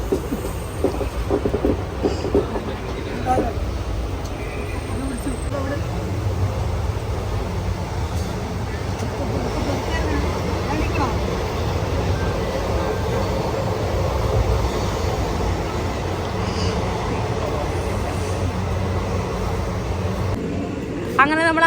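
Train pulling into Angadipuram railway station, a loud continuous rumble of rolling wagons and rattling wheels filling the whole stretch, with a brief squeal near the end.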